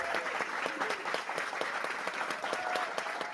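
Canned studio-audience applause effect on a cybersecurity news podcast: a continuous, even wash of many hands clapping, fairly quiet and steady for the whole few seconds with no voices over it.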